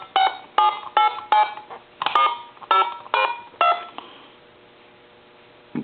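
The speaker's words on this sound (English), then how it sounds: "I might have to dial a number." Keypad tones from a lineman's telephone buttset dial a number, about nine short evenly spaced beeps followed by quiet line hiss and a faint click at the end.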